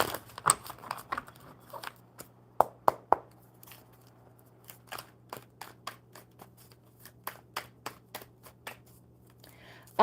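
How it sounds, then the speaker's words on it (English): A deck of tarot cards is shuffled by hand, a run of quick riffling snaps and soft slaps in uneven bursts, fairly close and quiet, with no voices. "Okay, whoop, one more good shuffle."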